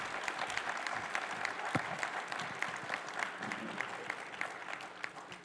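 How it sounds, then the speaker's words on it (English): Fairly faint, even applause from an audience at a school board meeting, honoring students, with scattered claps and a light crowd murmur and no talking. "Can we give them another round of applause,"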